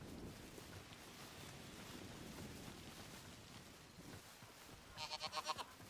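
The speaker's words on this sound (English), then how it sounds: "Sheep!" Wind and ambient outdoor noise in a video game give way near the end to a short burst of rapid, pulsing sheep bleats, moderately loud and close.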